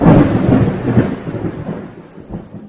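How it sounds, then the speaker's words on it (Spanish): Rolling thunder rumbles on in a long, deep, continuous roar that slowly fades, with no voices. "percibieron un gran hoyo en la tierra y el vaivén de truenos sucesivos."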